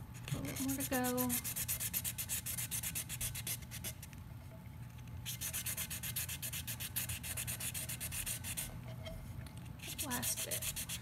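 Close, vigorous hand sanding of cured glitter epoxy with sandpaper, rapid rhythmic scratchy strokes in bursts with a short pause in the middle and faint tonal squeaks near the start and end.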